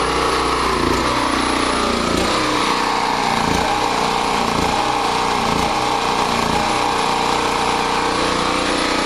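A generator engine runs with its gas shutoffs turned off, chugging loudly and steadily with a rough, uneven low pulse and broadband mechanical roar throughout, close to the recorder.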